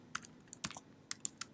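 Keys clatter on a computer keyboard while an Android app layout is built, a short burst of quick, irregular taps with brief pauses, close and fairly quiet, no talking.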